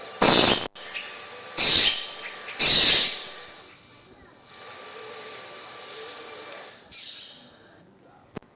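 A bird's call in a rural village setting, heard as three loud, harsh squawking bursts in close succession, followed by faint hissy background and a softer chirp near the end.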